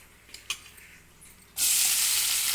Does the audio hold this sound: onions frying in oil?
yes